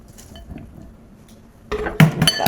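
Potato salad with onions, broth and cucumber gets stirred in a bowl: soft, quiet scraping gives way to a few loud clinks and clatters of a utensil against the bowl near the end, close up.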